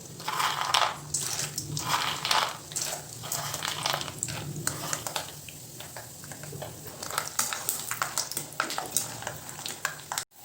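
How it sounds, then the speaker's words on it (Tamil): Peanuts frying in hot oil for a South Indian snack mixture, a steady crackling sizzle with scraping stir strokes from a spoon in the pan, close and continuous. "இப்போ நம்ம அடுத்ததாக இந்த வேர்க்கடலையே வறுத்துக்கலாம்."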